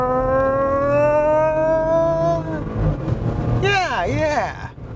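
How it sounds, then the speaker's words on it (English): A 2016 Porsche Macan with a PDK dual-clutch gearbox accelerates hard in sport mode, its engine note climbing steadily before a quick gear change drops the pitch, then pulling again, loud and close from inside the car. "Yeah, that's how you do a gear change."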